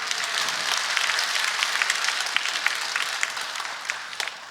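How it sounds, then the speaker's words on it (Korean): A church congregation applauding during a sermon service, a sustained patter of many hands clapping in a large hall, moderately distant and fairly steady, tapering near the end. "자, 우리 옆에 앉으신 분들을 위해서도 박수 한번 하겠습니다"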